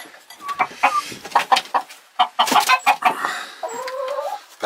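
A Polish rooster among hens gives a run of clucks and throaty calls, close and fairly loud, with scattered softer hen sounds and a brief drawn-out note near the end.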